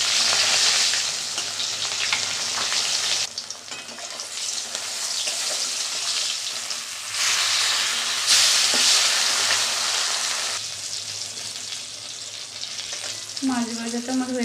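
Two pieces of rohu fish sizzle loudly in hot oil in a pan, a dense continuous frying hiss that rises and falls as the fish cooks, with a short voice near the end.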